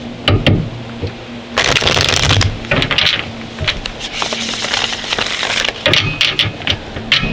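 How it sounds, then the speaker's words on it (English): Tarot cards shuffled by hand at close range, bursts of crisp riffling and slapping with short pauses between, loud and near with no talking. "Let me do 2 more shuffles for Cancer."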